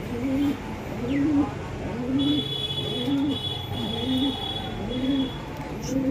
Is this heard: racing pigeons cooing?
yes